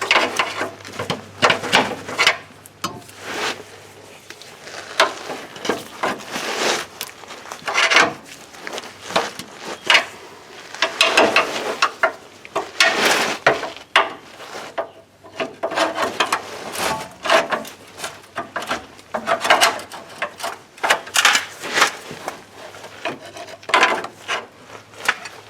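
Steel pry bar working a rusted front lower control arm loose on a Chevy Trailblazer, giving repeated scraping, grinding and creaking bursts of metal against metal in an uneven working rhythm, close and fairly loud, with no talking.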